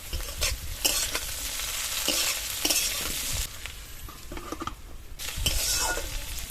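Okra frying in a pan on the stove, a loud close sizzle with brisk, repeated stirring and spatula scrapes against the metal throughout, without any speech.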